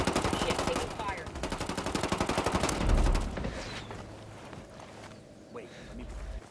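Gunfire in a video game rattles in fast rhythmic bursts of automatic fire, loud at first and then thinning to scattered distant shots, while a player talks over it.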